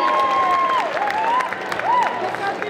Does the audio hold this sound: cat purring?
no